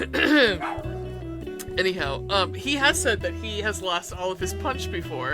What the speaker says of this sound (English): That is my dog also growling in the background